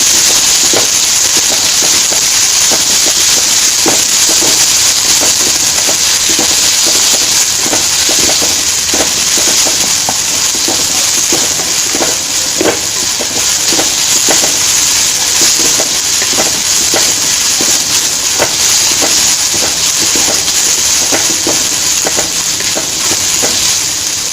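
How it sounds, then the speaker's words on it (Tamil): Dried red chillies fry in hot oil for onion chutney, a loud, steady sizzle and hiss dotted with constant crackling pops throughout. "அடுத்ததாக நம்ம காஞ்ச மிளகாய் போட்டு நல்லா வதக்கிக்கலாம்."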